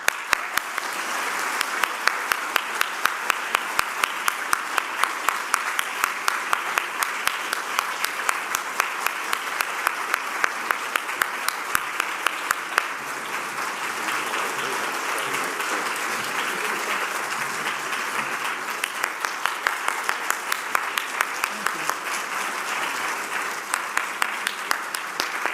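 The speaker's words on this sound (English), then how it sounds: "Thank you for the applause." An audience applauds Rabbi Harry Danziger in sustained, even clapping that runs on for about twenty-five seconds, full and steady from start to finish with no voices rising above it.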